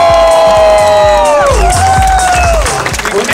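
Crowd cheering and clapping at an open-air pizza rave with fireworks in Görwangs, loud and close, with shouts rising over a steady roar of applause while sliding musical tones fade out.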